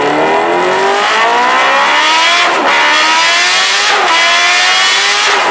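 Kawasaki H2R supercharged motorcycle engine revving hard, loud and close, with rising pitch sweeps as it climbs through gears and brief dips at each shift, running continuously with no talk.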